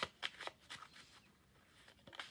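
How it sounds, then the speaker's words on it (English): Quiet, close riffling of playing cards being shuffled, a few short papery bursts in quick succession separated by brief pauses. "a couple more shuffles"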